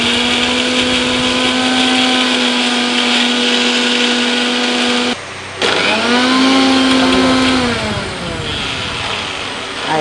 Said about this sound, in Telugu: గ్రైండ్ చేసుకున్నాను.